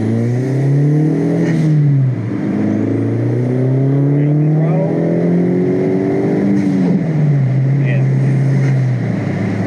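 A turbocharged Mk4 Jetta engine revs hard and climbs in pitch through the gears, loud and close, with a brief dip at a shift and rushing wind noise through a partly open window.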